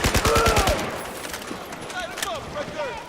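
Gunfire in the Battlefield 4 campaign, Tashgar mission: a rapid burst of shots opens loud and close, then thins into scattered, more distant shots and battle noise.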